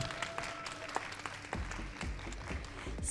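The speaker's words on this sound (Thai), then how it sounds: "ขอเสียงปรบมือให้กับเคมาและเฟย์ค่ะ" Audience applause at a televised reality competition, a dense run of clapping from a crowd that continues steadily throughout with scattered louder claps.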